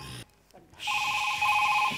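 A telephone rings with a bright, steady electronic trill after a brief gap, loud and close, following a short spoken remark.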